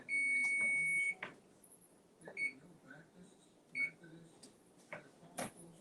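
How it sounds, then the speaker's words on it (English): A kitchen timer or beeper sounds a long steady electronic tone, then a few short beeps, during Sunday morning cooking with faint background clatter. "That's my beeper."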